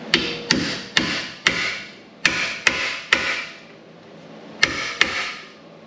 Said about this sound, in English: you give it a quick tap and it breaks the screw loose for you without stripping it.